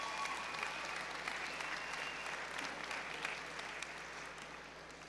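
Steady, dense applause from an audience at a high school honors awards assembly rises together and holds for the whole stretch, fading slightly toward the end, heard from a distance in a large room.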